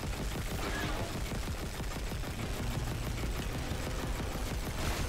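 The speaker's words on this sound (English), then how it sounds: "I'm just gonna use this gun." Continuous, dense gunfire from a weapon in the Dead Space remake, a loud sustained rattle of rapid shots blending with mechanical noise for the whole stretch, no pauses.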